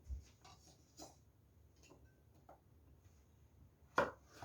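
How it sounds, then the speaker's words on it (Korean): Knife slicing zucchini into small, thick half-moons on a board: a handful of sparse, soft cuts at an uneven pace, close and quiet, with one sharper knock near the end. "작은 반달 모양으로 이렇게 썰어주세요."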